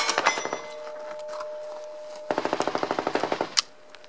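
Canik TP9SFx 9mm pistol fired downrange at a shooting range: a few scattered shots, then a rapid, evenly spaced string of about a dozen sharp close cracks ending in one louder report.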